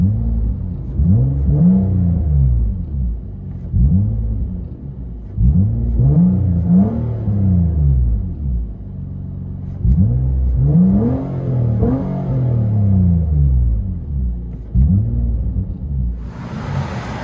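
A 2013 Nissan Maxima 3.5L V6 with Vibrant resonators, rear delete and 4-inch tips, heard from inside the cabin: repeated rising revs with a deep droning rumble, swelling and dropping back several times.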